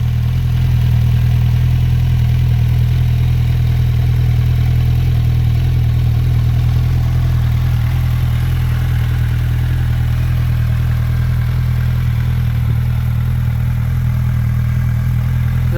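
A 2008 Suzuki Bandit 1250 motorcycle engine idles steadily and loudly up close, a deep continuous rumble with light mechanical clatter, no talking.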